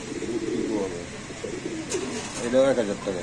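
Pigeons coo at a pigeon market, their throaty calls repeating close by while someone talks over them in a busy setting.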